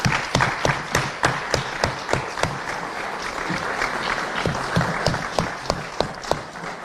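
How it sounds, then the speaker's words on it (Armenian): Theatre audience applauding director Emin Torosyan, a dense wash of clapping with sharp individual claps standing out in a steady rhythm, moderately loud and close, with no talk over it. "բոլորս ծափահարենք Էմին Թորոսյանին որպես լավ տնօրեն"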